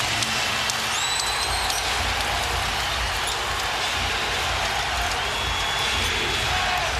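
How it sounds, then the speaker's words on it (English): At an NBA Finals game between Detroit and the Los Angeles Lakers, a packed arena crowd roars continuously and loudly after a big three-pointer. The sustained dense cheering has whistles rising above it. "Crowd on its feet."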